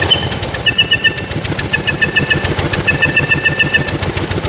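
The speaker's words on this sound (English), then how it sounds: "give her a few revs for the exhaust whistle" A 1904 De Dion Bouton veteran car engine runs with a rapid, loud rhythmic chuffing, while its exhaust whistle sounds in three short bursts over the revving.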